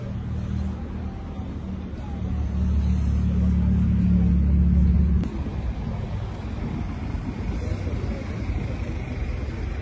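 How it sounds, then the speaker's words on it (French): Porsche sports cars at Place Vauban in Paris: a deep engine rumble swells and holds for a few seconds, then cuts off abruptly, leaving steady, softer traffic noise in the background. "En ce moment, il y a de la Porsche place Vauban."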